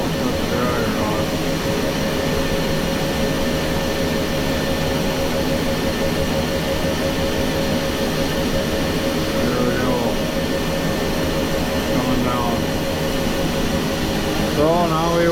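A running clothes dryer gives a steady, loud mechanical hum and rumble that holds unbroken the whole time, with a few faint voice-like bits here and there.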